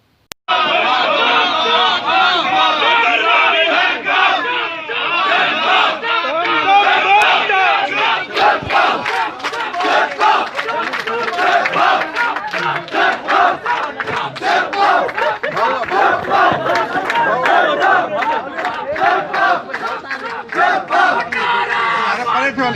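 A large crowd chants political slogans around Fatima Bhutto's convoy arriving in Larkana, loud rhythmic massed shouting with repeated bursts and claps, continuous and close for over twenty seconds.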